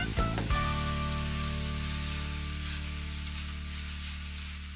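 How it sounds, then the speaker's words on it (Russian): Chopped kimchi tossed into a hot pan and fried, giving a steady broadband sizzle that swells briefly as it hits the oil and then holds on evenly, close and moderately loud, with a low hum underneath. "Далее закидываем нарезанное кимчи. Сразу же хорошо перемешиваем. Жарим так 2 минуты."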